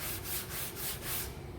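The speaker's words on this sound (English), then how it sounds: "I'll take a block and some sandpaper and I'll block it out." Sandpaper on a sanding block rubbed back and forth over Bondo body filler on a car, about four rhythmic, close, raspy strokes with no talk.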